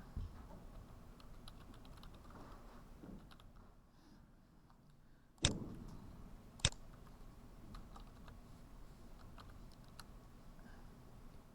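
Typing on a computer keyboard, a steady run of quiet, close key clicks with a short pause and two sharper, louder taps partway through, no voice.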